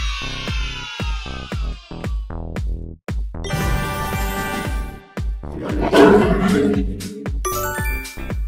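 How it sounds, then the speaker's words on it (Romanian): A lion roars in short rough bursts over a bouncy children's music track with chiming bell notes, the roars rising above the steady beat partway through. "Este un leu."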